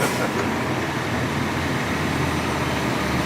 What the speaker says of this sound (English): I'm gonna let this truck get past so you can hear it.